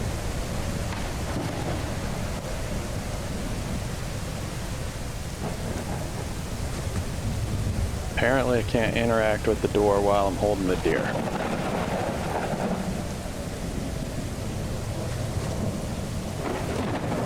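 A thunderstorm with heavy rain in the survival game Mist Survival, a constant loud wash of rain and rumbling thunder throughout, with a voice speaking briefly partway through.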